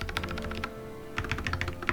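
Typing on an Mstone Groove T mechanical keyboard with factory-lubed silicone red switches and greased stabilizers: a quick, steady run of soft, muffled keystrokes, close and clean, with a short pause midway and no voices.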